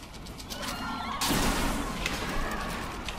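Gunfire blasts from a weapon in the video game Shadow Warrior: a single loud crack bursts out partway through and rings into a broad, sustained noisy wash over ongoing game sounds.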